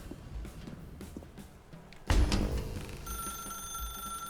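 Telephone rings in The Stanley Parable video game, a bright electronic ring that starts suddenly mid-clip after quieter background sounds and continues steadily to the end.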